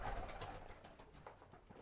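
Hünkâri pigeons coo softly nearby in a coop, a low murmuring call over a steady background hiss, with no talking.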